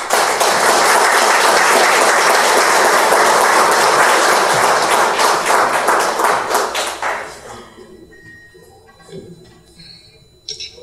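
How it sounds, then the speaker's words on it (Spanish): A conference audience gives loud, sustained applause to welcome a speaker, dense rapid clapping filling the hall for about seven seconds before it thins out and stops, leaving a quiet room with faint stray sounds. "Lo recibimos con fuertes palmas."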